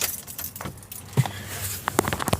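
Keys jangle as a 2000 Infiniti I30 is switched off, a few light metallic clinks and rattles scattered through a quiet interior with faint low rumble beneath.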